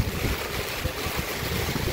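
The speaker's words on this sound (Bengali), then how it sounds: "খুব ঝোড়ো হাওয়ার সঙ্গে বৃষ্টি" Stormy wind with heavy rain at the Mall in Darjeeling, a loud, unbroken roar of gusts buffeting the microphone and rain noise, with no voices.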